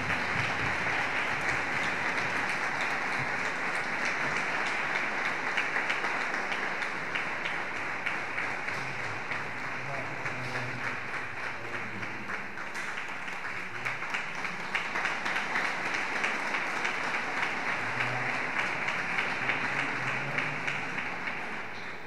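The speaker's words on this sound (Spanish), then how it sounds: "Fuerte aplauso, recibe su reconocimiento." Long, steady round of applause from an audience at a town hall tribute ceremony for retired teachers, dense clapping sustained evenly throughout with faint crowd murmur underneath.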